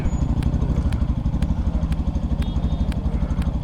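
Motorbike ridden up a steep hill road to the top of Mirinja Valley: a close, throbbing engine chugging in a fast, steady rhythm, with faint periodic clicks and no talking.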